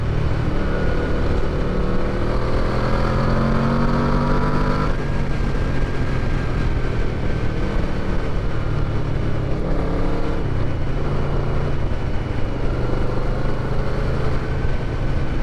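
A restored Yamaha Vmax V4 muscle bike roars steadily while being ridden, its engine loud and close with rising and falling rev sweeps over constant wind rush.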